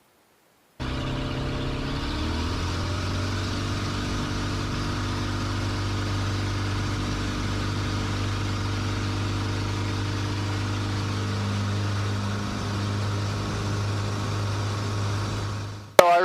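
A light airplane engine runs up to full power for takeoff, a loud, steady droning hum that holds evenly for about fifteen seconds before cutting off abruptly at the end.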